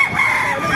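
Tagalog native chickens cluck and call close by at an animal market in Baliuag, a short burst of overlapping hen and rooster sounds with a faint crowing tone.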